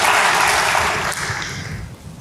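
A church congregation claps in praise to God during a sermon. A short, dense burst of applause sounds bright and full, then thins and fades over about two seconds.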